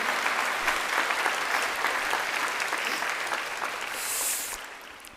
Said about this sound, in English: Can we please get a moment of applause for all our parents and guardians